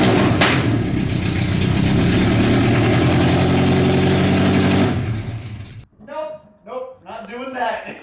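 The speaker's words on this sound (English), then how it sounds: "Joan wants to start the FRS without the Tomei on." A Subaru FRS engine starting and running without its Tomei titanium exhaust, a loud, raw, steady drone for about five seconds that then cuts off, followed by people talking.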